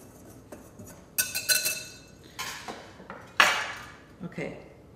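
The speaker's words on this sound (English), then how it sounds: "Grab a whisk and sift that together." Dry ingredients with dry milk being whisked and sifted in a bowl, a series of metallic clinks and taps against the bowl in bursts, close and fairly loud.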